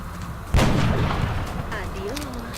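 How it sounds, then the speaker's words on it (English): A sniper rifle fires once in the XCOM video game, a sudden loud boom that rings out and decays slowly, with faint game sounds trailing after. "So first the sniper shot."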